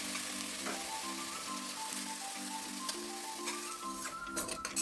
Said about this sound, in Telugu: వేడిగా అయ్యాక రొయ్యలన్నీ వేసి తడిపోయే వరకు లో ఫ్లేమ్లో పెట్టి వేయించుకోవాలి